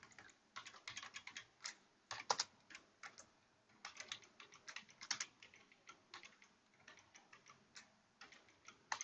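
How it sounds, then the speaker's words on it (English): Fast keystrokes on a computer keyboard, taken down while someone writes a database query. The clicks come in irregular bursts and clusters, fairly close and quiet, with no talking over them. "I'm going to disable this line by typing 2 dashes"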